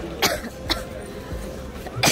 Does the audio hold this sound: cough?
yes